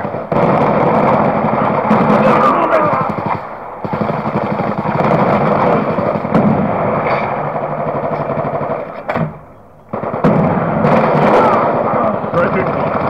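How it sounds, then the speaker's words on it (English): Video game war sound effects of a Hellstorm missile strike with gunfire: a dense, continuous roar of explosions and rapid shots that stays loud almost throughout, breaking briefly near the end before resuming. "Hellstorm missile on standby."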